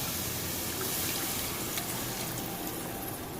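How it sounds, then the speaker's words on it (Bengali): Water poured from a mixer bowl into a cooking pot gives a steady, even rush and splash that holds throughout, faint and with no speech. "মিক্সির বাটিটা দিয়ে এর মধ্যে জল দিয়ে দিলাম।"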